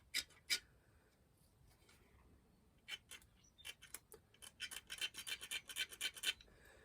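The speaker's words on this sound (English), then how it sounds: "take a scribe and scribe the backside where this bolster stops" A steel scribe scratches a mark on the back of an old file blade being made into a dagger, a few isolated scrapes and then a quick run of short, faint rasping strokes close by in a quiet room.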